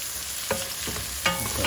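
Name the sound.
herbs and fennel frying in a pan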